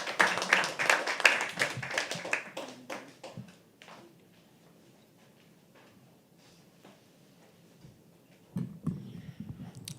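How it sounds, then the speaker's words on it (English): Audience at a live poetry open mic claps at the start, a dense burst of applause that thins out and fades over a few seconds, followed by a quiet stretch and a few scattered sounds near the end. "Keep the claps rolling for our next performer."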